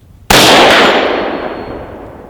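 A single loud rifle shot of Black Hills 77 grain OTM factory-seconds ammunition goes off close by with a sharp crack, followed by a long ringing decay.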